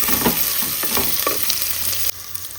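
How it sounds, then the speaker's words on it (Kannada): Chopped onions frying in a pan until brown, a steady bright sizzle with repeated stirring scrapes, loud and close, easing off near the end. "ಇನ್ನು ಬ್ರೌನ್ ಆಗೋವರೆಗೆ ಇದನ್ನು ಫ್ರೈ ಮಾಡ್ತಾ ಇರಬೇಕಿದ್ದಾರೆ"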